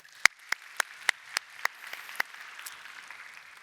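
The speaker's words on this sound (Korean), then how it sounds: "우리 예배를 받으시고 계신 하나님께 감사와 영광의 박수 한번 올릴까요?" A church congregation claps during a worship service: about eight sharp, evenly spaced claps in unison, then a softer scattered patter as the clapping dies away.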